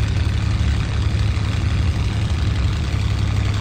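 A steady, droning piston aircraft engine idles and rumbles while taxiing in the IL-2 Cliffs of Dover flight game, with a constant low throb and no talk.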